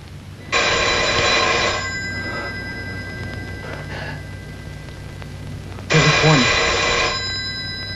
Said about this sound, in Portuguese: telefone está chamando.